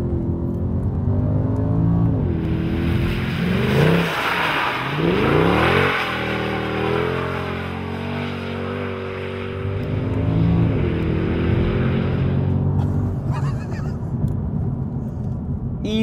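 A Mercedes CLK 63 AMG Black Series engine revs up and down, rising and falling in pitch several times before settling into a deep rumbling idle.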